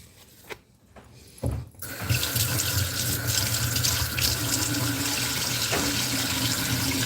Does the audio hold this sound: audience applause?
no